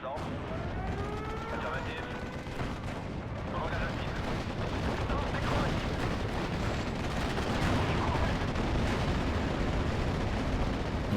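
Bombs exploding in Steel Division: Normandy 44, a dense, continuous rumble of heavy blasts and artillery-like fire that runs the whole clip without letting up.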